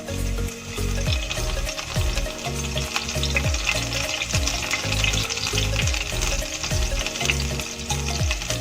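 Garlic frying in hot oil in a pan for papaya-flower stir-fry, a loud, dense, continuous sizzle and crackle heard close up with no talking.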